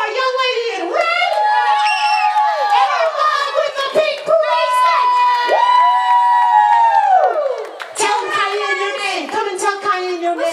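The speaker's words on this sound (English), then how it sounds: "Let's give a big round of applause to our Show Me How You Dance Miss Laura's Campus WTTW Kids Championship to our young lady in red." A crowd of children and adults at a Halloween kids' dance contest at Chicago's Lincoln Park Zoo shouts, cheers and whoops loudly and continuously. High, sustained children's voices ring out over clapping throughout.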